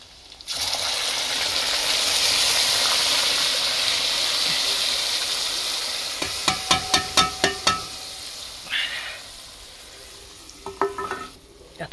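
Onion and tomato gravy for crab fry stirred in a hot pan, a steady loud sizzle followed by a quick run of sharp spoon scrapes and clinks against the pan, then a few more scattered taps near the end.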